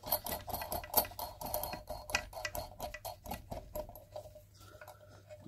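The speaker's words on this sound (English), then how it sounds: "we'll just hand tighten for the moment" A bolt on a basin mixer tap fitting is tightened by hand, giving a quick series of small metallic clicks and rattles, close and quiet, that slows and fades toward the end.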